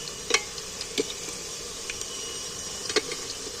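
Potatoes fried and stirred in a pan: a soft, constant sizzle broken by a few sharp scrapes and clicks of the spoon against the pan, quiet and close, with no voices.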